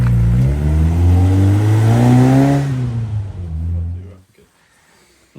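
A five-bearing Hillman Imp 1200 sand cast engine with an experimental Coventry Climax FWH head runs steadily and close, its pitch rising and falling with revs before cutting off, with a voice heard briefly.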